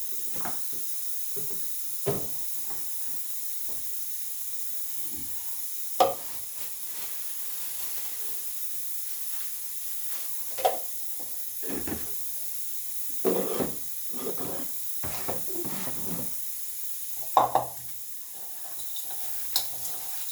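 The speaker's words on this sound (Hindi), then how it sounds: "अब दाल को निकालेंगे, इसको थोड़ा सा कढ़ाई में इसको भूंज लेंगे दाल को।" Cooked lentils (dal) dry-roasted in a kadhai: a steady faint hiss broken by sporadic scrapes and clicks of stirring, spaced every few seconds.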